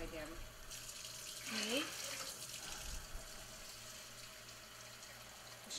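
Warm water runs steadily from a tap in a broad hiss, with some faint background noise and a brief higher tone partway through.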